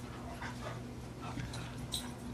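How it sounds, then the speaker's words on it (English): Dogs whimper and whine for their supper in short high-pitched cries over a steady background hum, at moderate distance and fairly faint. "I hear some dogs calling."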